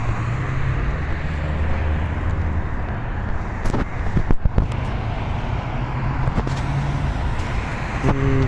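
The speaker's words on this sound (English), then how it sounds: "I'm sure it just sounds like a bunch of cars right now" Cars passing on a nearby road, a constant roadway rumble with a few louder passes and sharp knocks partway through, and no speech over it.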